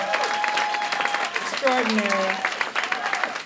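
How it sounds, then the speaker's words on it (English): Audience applause fills the room at the AAFCA TV Honors 2019 awards ceremony, a steady wash of clapping with voices rising over it and calling out partway through. "a round of applause"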